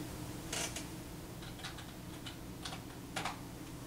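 PIN entered on a computer keyboard: a quick series of light key clicks in short bursts, fairly close, over a steady low background hum with no talking.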